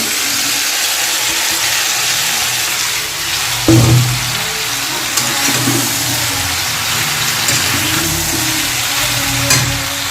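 Vegetables frying in a pan while cooking doi shukto, a steady close sizzle and crackle throughout, with a few brief louder clatters of stirring near the middle and again near the end.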